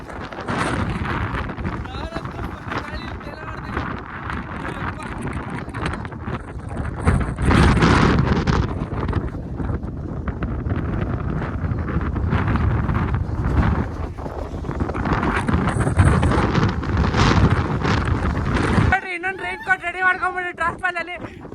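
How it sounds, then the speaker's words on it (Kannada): Strong wind on the Mullayanagiri hilltop buffets a phone microphone, producing a loud, continuous roaring rumble with gusty surges and muffled voices underneath. "ಏನ್ ಗಾಳಿ ಅಂದ್ರೆ ಫೋನ್ ಹಂಗೆ ಹಾರೋಯ್ತೈತೆ."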